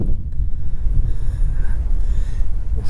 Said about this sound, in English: Pretty windy up here